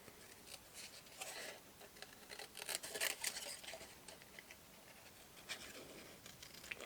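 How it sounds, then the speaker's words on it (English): Scissors fussy-cut die-cut paper pieces for a lidded lily pad box, making a series of quiet, close snips and paper rustles at an irregular rhythm. "I'm going to snip the rest."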